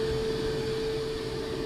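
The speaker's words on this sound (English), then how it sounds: "So what I've done is connected up the hoover again," A Hoover vacuum cleaner set to blow runs with a steady, close drone and a constant whine, loud and unbroken, with no talking.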